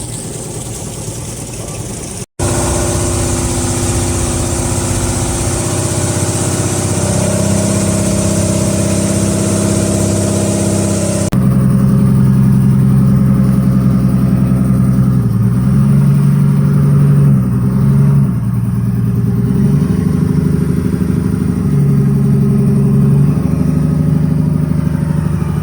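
The ship KM Mutiara 4 pulls away from a Jakarta container harbour, its engine giving a loud, steady low drone and hum. Partway through, the tone shifts and deepens as the engine works harder under way.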